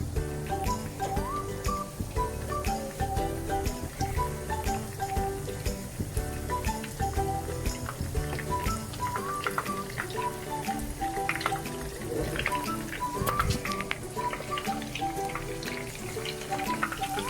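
Steady crackling and sizzling of shrimp frying in hot olive oil, a dense continuous spatter running throughout at moderate volume with no talking.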